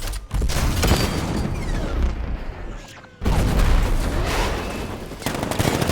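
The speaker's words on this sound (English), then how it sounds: ".60mm cannon operational." A 60mm tank cannon in Batman: Arkham Knight booms over a continuous roar of gunfire and explosions, loud and close, with a brief drop before the barrage resumes.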